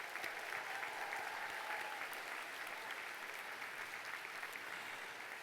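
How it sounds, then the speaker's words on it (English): A large commencement audience applauds graduating alumni with sustained, dense clapping that holds steady from start to finish and fills the hall evenly, with no voices rising above it. "Let's give them a big round of applause."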